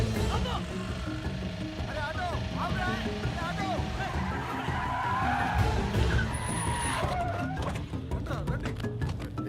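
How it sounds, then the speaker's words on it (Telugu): An auto-rickshaw pulls away along a busy street, its engine noise blending with steady traffic roar, a brief tyre skid and a faint honk, loud and continuous throughout, with indistinct voices mixed underneath. "ఆటోలో వెళ్ళిపోతుంది"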